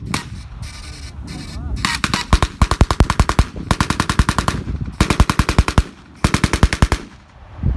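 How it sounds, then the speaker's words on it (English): Gas-powered replica gun fired by reenactors at an outdoor event, loud rapid bursts of sharp automatic shots in several strings separated by short pauses, close and dominant. "Gas gun."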